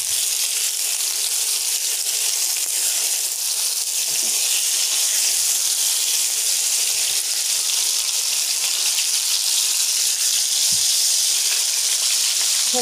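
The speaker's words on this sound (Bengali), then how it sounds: "আগে প্রথমে মাছটা ভেজে নেব, তেলটা গরম হয়ে গেছে" Snakehead fish fry in hot oil on a stove, giving a steady, continuous sizzle and hiss that holds evenly throughout, close and without speech.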